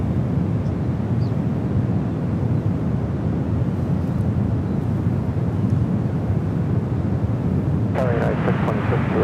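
Continuous, loud jet engine roar from an airplane taking off at San Francisco airport, a broad steady rumble with a brief voice near the end.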